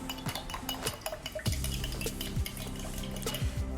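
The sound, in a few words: stirring strawberry flavor into iced tea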